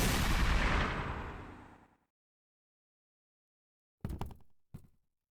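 Shotgun blast in the video game Baldi's Basics, a loud booming burst that rings out and fades over about two seconds, followed after a silence by two short sharp bursts.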